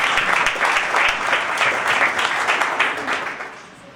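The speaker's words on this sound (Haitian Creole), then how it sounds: "on nous applaudit," A studio audience gives a burst of sustained applause that tapers off toward the end, with dense clapping throughout.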